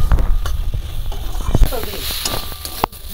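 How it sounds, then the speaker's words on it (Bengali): Small mourola fish being stir-fried with spices in a pan in a Bengali village kitchen, a busy sizzle broken by scraping stirs and spoon knocks, close and fairly loud. "মাছের সঙ্গে সমস্ত মশলা একটু ভালো করে কষিয়ে নিচ্ছে।"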